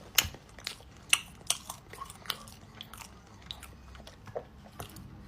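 Someone bites into and chews fruit close to the microphone, giving a handful of sharp crunchy bites followed by softer, irregular chewing.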